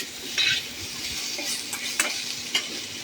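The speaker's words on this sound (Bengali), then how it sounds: "একসাথে মিশিয়ে ভালো করে মশলাগুলোকে নেড়ে নেওয়া হচ্ছে।" Ginger paste and spices fry in a pan while being stirred, a soft continuous sizzle with a few light scrapes and clinks of the spoon against the pan.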